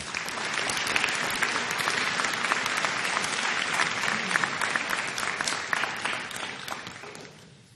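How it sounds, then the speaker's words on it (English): A large crowd applauds steadily for several seconds at a February 2018 convocation, dense clapping that tapers off slightly at the very end. "Let's give them all a round of applause."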